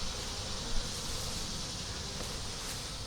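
A small honeybee swarm with an unmarked, egg-laying queen hums in a steady, dense buzz that stays even and fairly close for the whole stretch, with no voices over it.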